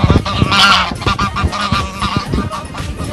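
Several geese honk loudly and close by, harsh overlapping calls coming in rapid bursts with a flurry of flapping and scuffling noise.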